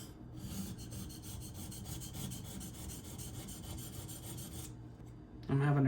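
An ESEE Izula II knife is being sharpened, its edge ground down with quiet, continuous rasping strokes heard up close, until a louder bump at the very end.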